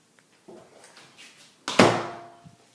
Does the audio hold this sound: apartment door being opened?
yes